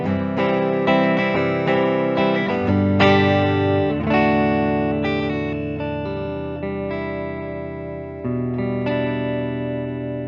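A 1982 Gibson Les Paul Black Beauty electric guitar on its neck pickup plays simple chords alone, each strum ringing out and decaying in a steady series, fairly loud throughout.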